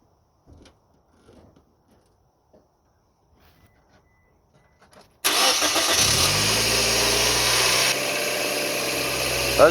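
A car engine cranks and catches after a drive belt replacement, kicking abruptly into a loud, steady run and idle following several seconds of faint shuffling and quiet background sounds.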